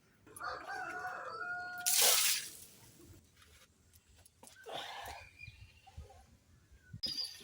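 Chickens cluck at a chicken farm, with a rooster crowing loudly in the middle, along with scattered bird calls and faint ambient noise.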